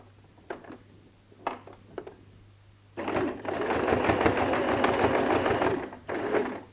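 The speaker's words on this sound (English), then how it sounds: "I'm just going to start with a straight stitch because I need to go do a back stitch when I start" A sewing machine runs a straight stitch along a dress armhole, with a few short taps and a brief stop, then a steady close whirring run and a final short burst.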